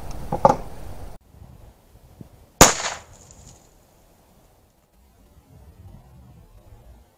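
A Yildiz TK12 single-shot 12 gauge shotgun fires one sharp, loud report that decays quickly outdoors, with a softer earlier bang and quiet background afterward.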